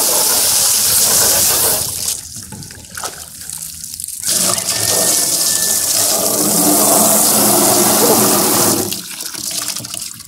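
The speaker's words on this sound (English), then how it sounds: "Gotta turn on the water. And just grab the hose. And we gotta wash out their container." Water gushes steadily from a garden hose, washing out an animal's container on a homestead, loud and continuous with a brief lull partway through.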